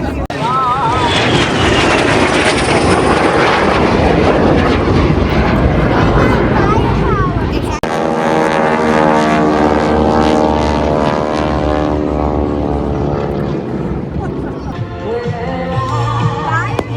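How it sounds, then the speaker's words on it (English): A MiG-17 jet shooting flames from its tail at an air show roars loudly and continuously with a broad, rumbling engine wash, and crowd voices mix faintly underneath. "Everyone loves to see a MiG-17 shoot flames out its tail."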